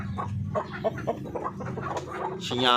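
Parawakan breeder chickens cluck in a quick run of short, close calls that rise into a louder squawk at the end, with someone speaking faintly beneath them.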